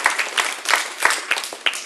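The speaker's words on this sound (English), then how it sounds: "give yourself a round of applause" An audience at an elementary school kindergarten graduation ceremony claps in a brief burst of applause. The clapping is fairly close, uneven, and only moderately loud, with a few sharper claps standing out and no speech over it.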